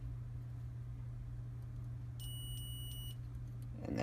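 A multimeter set to its audible continuity mode beeps as its probes touch both sides of a dryer thermal fuse, a short steady tone over a constant low hum with no talking.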